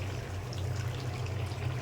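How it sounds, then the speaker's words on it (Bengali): Hot water pours steadily from a bowl into a pot of goat meat curry with potatoes, a continuous close trickle over a low hum, with no talking. "1 বাটি গরম জল দিয়ে দিলাম।"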